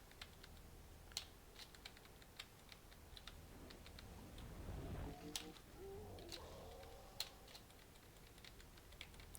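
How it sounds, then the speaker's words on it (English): Repeated presses of the tab key on a computer keyboard during a City of Villains game session, sharp isolated clicks scattered at irregular intervals, fairly faint over a low background hum, with a brief swell of game sound midway. "I'm going to break the tab button"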